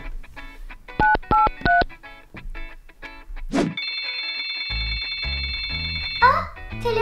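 In a Turkish puppet play, a toy telephone plays a quick run of bright keypad dialing beeps, then a pause and a whooshing tone before a steady electronic ring sounds for a few seconds, close and clear.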